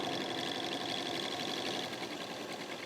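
A sewing machine runs steadily up close, stitching a long diagonal line across a quilt strip with a constant whirring hum and no talking.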